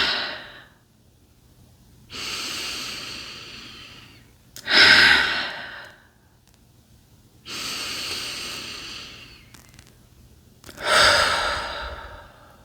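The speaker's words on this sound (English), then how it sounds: "3 deep breaths." Three slow, deep breaths taken in stillness, each a long airy inhale followed by a stronger, gusty exhale, close and clear with quiet pauses between them.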